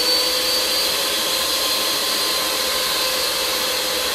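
An electric mixer whisks batter in a bowl with a constant, loud, close whirring drone that stays steady from start to finish, with no talking over it.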